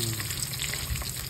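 Dried fish (daing) frying in a pan, giving a brief, steady crackling sizzle with a low background hum.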